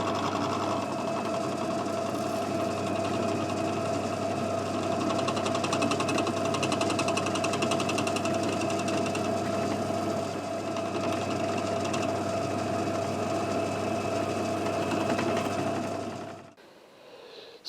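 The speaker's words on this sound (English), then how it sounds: "we can come back with our drill bit and drill from this side" Power drill whirring steadily and loudly for a long stretch while drilling a hole in guitar body wood for a custom Telecaster, a constant motorized buzz that cuts off abruptly near the end.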